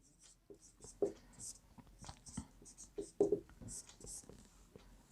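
Scratchy strokes of writing on a board during a maths lesson on triangles, coming in short irregular bursts with pauses between them, close and fairly faint, while a person speaks quietly between the strokes.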